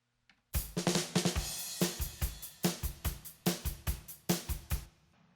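A polished drum groove with punchy kick and snare and bright cymbals, sounding full and balanced, played alone.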